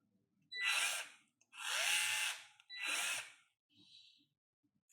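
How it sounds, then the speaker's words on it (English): Worx 242 electric screwdriver whirring in three close bursts of about a second each, then a brief softer spin, with quiet clicks between. "So this is the screwdriver, the electric screwdriver"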